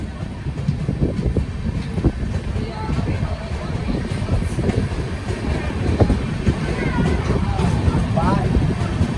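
The Chandigarh–Madurai superfast express passes on an adjacent track, heard from aboard its paired train: a steady loud rumble and rattle of rolling wagons throughout.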